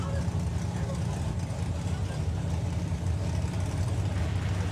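Drag racing car engine rumbling steadily out on the track at Santa Pod Raceway, a continuous low drone heard from a distance with no clear rise in revs.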